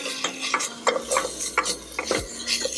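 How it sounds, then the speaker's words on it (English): Spices being sautéed and stirred in a saucepan, with a series of close scraping stir strokes over a faint sizzle, repeating at an uneven rhythm. "Let's saute the spice stock."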